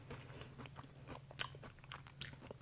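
Crunchy almonds with pesto spaghetti squash being chewed up close, a run of soft crisp bites and chewing sounds repeating irregularly over a low steady hum, with a couple of sharper crunches standing out.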